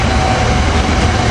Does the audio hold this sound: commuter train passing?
yes